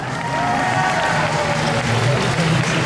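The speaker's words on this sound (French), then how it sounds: "On applaudit bien fort." Audience applause at a cosplay contest award ceremony, a steady dense wash of clapping from a large crowd held at full strength for the whole stretch, with faint voices mixed in beneath.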